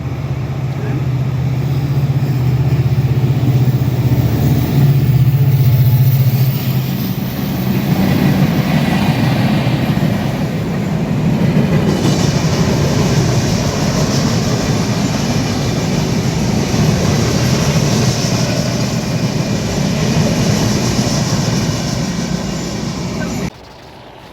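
The Jahanabad Express, a passenger train running from Dhaka to Khulna, rumbles past at a station crossing with a steady, loud roar of wheels and carriages and a deep hum at the start, then cuts off abruptly.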